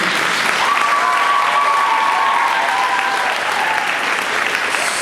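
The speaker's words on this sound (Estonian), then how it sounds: "Põhimõtteliselt võib plaksutada, sest nad on tegelikult tubli inimesed." Audience applause at a dance education anniversary gala, a loud, dense, sustained clapping from a large crowd that carries on without a break from start to finish.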